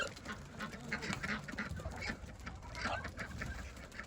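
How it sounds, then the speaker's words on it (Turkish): Faint clucking and squawking from a bunch of chickens, busy and scattered, with rustling in the background. "Bakın güzel tavuklarımız kaçarak çıkıyor."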